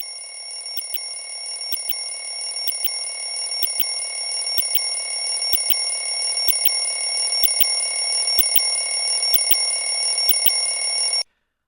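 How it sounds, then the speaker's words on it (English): An alarm clock inside a bell jar rings continuously in a steady, rapid metallic pattern for about eleven seconds before stopping abruptly, moderately loud and without voices. "putting a ringing alarm clock in a bell jar and removing all the air with a vacuum pump"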